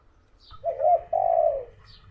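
A dove coos twice in a low, soft, hooting phrase, fairly close, with faint outdoor background and a brief higher chirp before and after.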